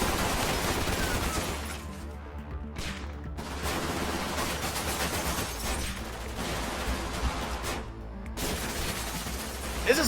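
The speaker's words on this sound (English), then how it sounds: "The administrator's voice was swallowed up by the onslaught of gunfire." Sustained heavy gunfire in the video game Snowbreak, rapid automatic bursts overlapping with booms and cracks, loud and continuous with a couple of brief lulls.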